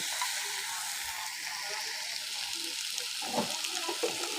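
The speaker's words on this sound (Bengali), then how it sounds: "মশলার সাথে কাঁঠালটা আমার কষায় নেওয়া হয়ে গিয়েছে" Jackfruit fries with spices in a pan, a steady close sizzle that runs throughout, with a few soft stirring knocks toward the end and no talking.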